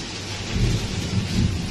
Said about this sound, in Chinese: 能听见这个雨声吗？ 这是暴雨吧？